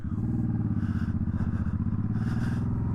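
A Suzuki Boulevard M50 forward-control cruiser motorcycle runs steadily while being ridden, its V-twin engine giving a loud, close, rhythmic throbbing pulse with a slight rise and fall and no talking.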